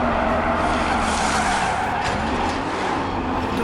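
A car drifts in the Car Simulator 2 video game, its tires squealing in one loud, continuous skid over a droning engine, close and steady throughout with no talking.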